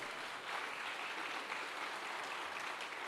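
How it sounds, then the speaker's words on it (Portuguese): A church congregation applauding during a worship service, a steady broad wash of many hands clapping at a moderate distance with no talk over it. "Quem recebe, vamos lá, aplaudir o Senhor mais uma vez."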